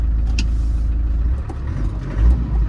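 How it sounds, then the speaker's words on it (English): A 1998 Land Rover Defender 110 with the 300Tdi diesel engine rumbles steadily from inside the cab, with a low, even drone and a slight swell in engine note near the end as it is revved gently. "So we're giving it a little rev"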